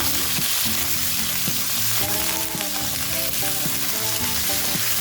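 Mutton pieces browning in a hot pan for yakhni soup give off a loud, steady sizzle with crackling spatter and occasional stirring scrapes, close up and continuous, no voices.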